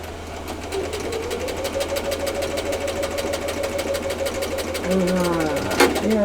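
A sewing machine stitches a pineapple quilt block in one continuous run, a close, steady mechanical whirr with a rapid needle rhythm and a brief change in pitch near the end.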